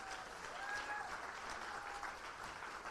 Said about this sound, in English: Yes, round of applause for her team.